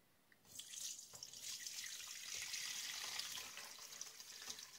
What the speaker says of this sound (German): Dann gießen wir das jetzt einmal ab.